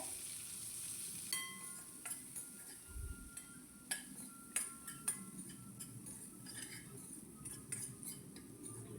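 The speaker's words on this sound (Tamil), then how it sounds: "கொஞ்சம் கருவேப்பிலை சேர்த்துட்டு நல்லா வதக்கி விட்டுடலாம் மீடியம் ஃப்ளேமில்" Onions and curry leaves sautéing in a pan over a medium flame, a soft steady sizzle with scattered clinks and scrapes of a utensil stirring.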